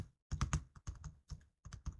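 Sharp, close computer mouse clicks while working in an Excel spreadsheet, coming in short clustered bursts of two or three separated by brief silences, with no one talking.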